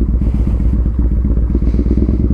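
Yamaha Bolt motorcycle being ridden, its engine a loud, steady low rumble with a rapid throbbing pulse, heard close with wind and no speech.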